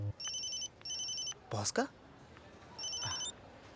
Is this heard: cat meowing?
no